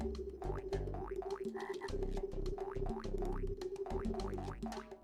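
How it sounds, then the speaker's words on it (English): Repeated boink hop sounds from the frog in a PS1 prototype of Frogger, a quick, loud springy run of electronic bounces over a steady musical backing. "why is every single time you move it goes boink boink boink boink boink boink?"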